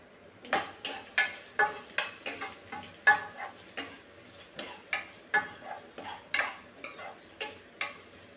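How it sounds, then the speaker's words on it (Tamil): Rhythmic scraping and clinking of a spoon stirring thinly sliced onions with salt frying in a pan, roughly two strokes per second, close by with a faint sizzle underneath. "வெங்காயத்தில் உப்பு சேர்த்து நல்லா வதக்கி கொடுங்க"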